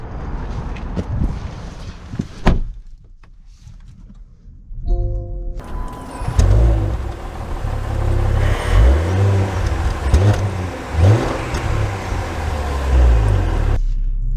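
A 2023 Range Rover Velar HST engine starts and pulls away with a low rumble and rising revs, accompanied by thumps and clicks near the start.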